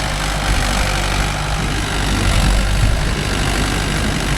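Mahindra tractor diesel engine running at a steady idle, a loud, continuous low rumble heard up close with no talk.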